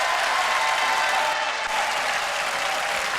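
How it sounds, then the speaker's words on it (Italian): Studio audience applauding on an Italian amateur talent TV show, a dense, steady wash of clapping that holds at even loudness for the full few seconds with no talk over it. "L'applauso per Domenica Serino."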